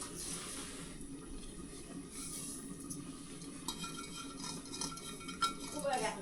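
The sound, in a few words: roasting sesame seeds in a pan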